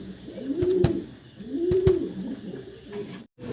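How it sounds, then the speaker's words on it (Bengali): Pigeons, white fill-back birds, give two clear rolling coos close by, each with a rising and falling throaty note, and softer calls follow between them. "এক পেয়ার ফিলব্যাক কবুতর দেখাচ্ছি, সাদা দবদবা।"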